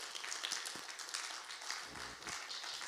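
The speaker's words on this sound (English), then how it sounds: "can we have a round of applause for our musicians and singers?" Applause for musicians and singers at a mission trip closing celebration, faint, fairly distant steady clapping from a gathered audience, with a brief low voice near the end.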